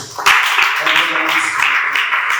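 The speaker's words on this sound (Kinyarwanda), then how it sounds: "mbere Imana amashyi" A church congregation claps together in a loud, sustained burst of applause, dense and steady throughout, with voices mixed in.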